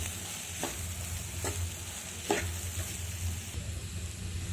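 Carrot pieces fry in a pan with salt and chili while being stirred, a steady sizzle running underneath a few short scraping strokes spaced about a second apart.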